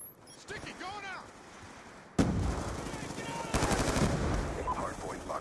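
Gunfire in Black Ops 2 team deathmatch: a sudden burst of loud, rapid shots kicks in midway and keeps going with dense crackling, after a quieter stretch with game sounds and chirpy effects.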